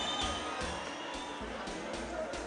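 A large political convention crowd claps and cheers in a broad, continuous wash of sound, with a voice speaking over it.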